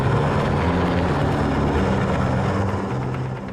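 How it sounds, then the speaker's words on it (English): Loud, steady rotor thumping and engine roar from a rescue helicopter close overhead above a lifeboat at sea, fading slightly at the end. "The helicopter and lifeboat then come under formation"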